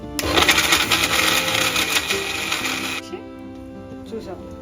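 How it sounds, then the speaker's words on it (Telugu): A mixie grinder runs loud and close, grinding jaggery, asafoetida and spices for a bitter gourd pickle, whirring steadily for three seconds and then cutting off to a quieter hum. "మిక్సీ ఆన్ చేసుకోవాలి."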